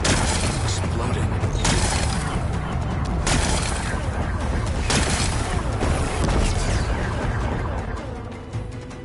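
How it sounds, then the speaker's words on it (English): Explosions blasting apart rocks in Horizon: a series of heavy booms and crashing debris, with several sharp blasts spaced a second or two apart over a loud rumbling bed, easing off toward the end. "Exploding."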